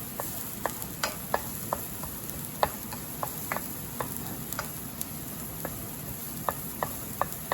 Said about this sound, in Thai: หอมใหญ่เริ่มใส่นะคะ แล้วก็เห็ดเอาให้ขึ้นสีนิดๆนะคะ